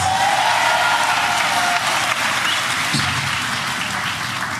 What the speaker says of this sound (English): let's give a round of applause for all of our activists